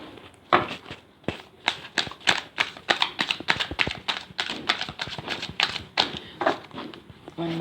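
Tarot cards being shuffled and drawn make rapid, crisp flicking and slapping clicks in quick uneven bursts, close and fairly quiet.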